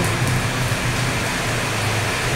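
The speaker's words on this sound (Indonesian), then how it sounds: "Sini hujan Pak, sini hujan" Steady, dense hiss of rain falling continuously, a broad even wash of sound with no voices and no pauses.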